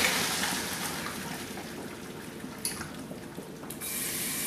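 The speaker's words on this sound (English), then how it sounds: "when the pasta's ready, you get your strainer ready. And strain it into the sink" Cooked pasta water poured from a pot through a strainer into a kitchen sink: a steady, close rushing splash with a few brief clatters, and no talking.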